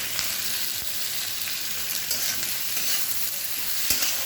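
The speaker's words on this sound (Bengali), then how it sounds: "পেঁয়াজটা দিয়ে দিলাম আমি মশলাটা রেডি করবো পেঁয়াজটা ভাজা ভাজা হয়ে এসছে" Sliced onions sizzle and fry steadily in a pan of oil for a Bengali-style chicken curry, a close, continuous hiss with a few faint stirring clicks and no talking.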